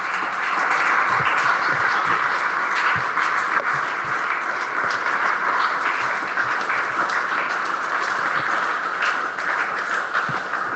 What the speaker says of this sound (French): Applaudissez très fort le Seigneur de gloire.